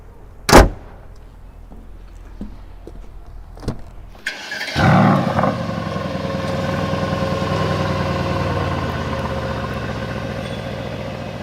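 A 2021 Mercedes-AMG GLE 63 S with the race performance package fires up after a couple of sharp knocks, roaring loudly on start and then settling into a deep, steady idle close by.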